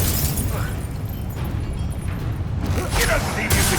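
Explosive spell blasts from the Hogwarts Legacy video game, a dense run of bursts and booms over a steady rumble of combat sound, with loud hits near the end.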